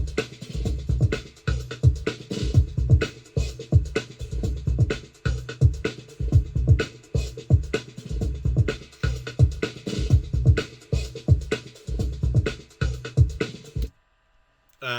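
A full drum loop plays for about fourteen seconds: kick and other drums sidechained to it, hitting together in a steady, punchy rhythmic pattern that cuts off abruptly near the end, with no talk over it.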